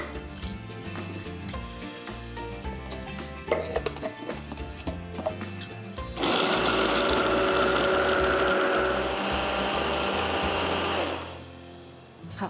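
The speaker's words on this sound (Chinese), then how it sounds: "为了要节省时间，所以这一次的话，我们不管是番茄、小黄瓜、洋葱跟大蒜，都使用食物调理机" Food processor chopping onion, garlic, tomato and cucumber for a tabbouleh salad: irregular clatter and chopping at first, then a loud steady motor whir with chopping for about five seconds before it winds down.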